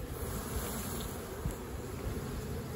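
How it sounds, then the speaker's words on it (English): A dense swarm of honeybees buzzes close and steady as they are shaken off a hive frame during a laying-worker fix. "Now these little bees, so what I will do, I'll shake those."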